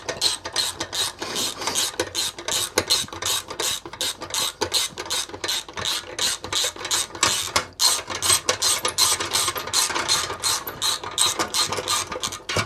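Ratchet rapidly clicking as bolts are tightened to draw an RV air-conditioner mounting plate up snug, with dense continuous pawl ticks in close, loud bursts and brief pauses.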